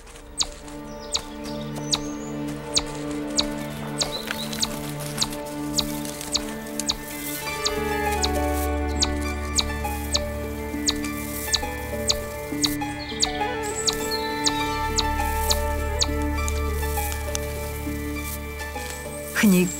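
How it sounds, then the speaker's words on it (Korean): Sharp, repeated chirping calls of a squirrel giving an alarm on sensing a venomous snake in the forest, a steady rhythm of short clicks under a hum of insects and birdsong. "제일 먼저 위험을 감지한 람쥐가 신호를 보냅니다."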